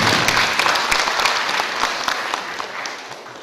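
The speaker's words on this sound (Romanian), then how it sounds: "și vreau să aplaud." Audience applause fills a book launch at a high school, dense and steady throughout, loud at first and easing slightly toward the end.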